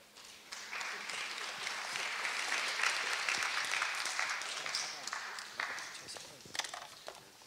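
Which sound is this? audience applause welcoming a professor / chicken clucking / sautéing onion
audience applause welcoming a professor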